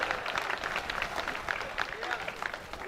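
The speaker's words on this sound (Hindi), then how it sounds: "ताली गलत जगह हो रही है।" Steady, moderately distant audience applause fills a Hindi comedy poetry gathering (hasya kavi sammelan), a continuous patter of many hands with crowd murmur beneath.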